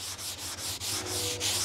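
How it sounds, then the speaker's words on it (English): A sanding block rubs back and forth in steady, rhythmic strokes over wooden split boards made for coyote hunting, lightly smoothing router marks, close and alone with no talk. "Just a little light sanding there"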